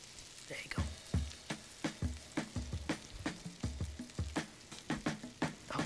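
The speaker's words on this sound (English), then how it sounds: "You hear that sizzle?" Bread toast sizzles and crackles in a hot skillet, with sharp popping bursts in an uneven rhythm, close and fairly quiet.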